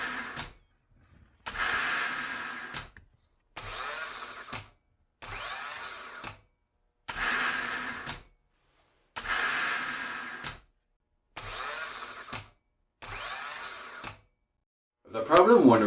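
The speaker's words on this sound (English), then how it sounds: "Here you can compare the sound of the starter before and after the reconditioning." A reconditioned Jeep Patriot starter motor, a Chrysler (Mitsubishi) unit, whirs in eight even bursts of about a second each, separated by short silences, loud and close, with a brief rattle at the end.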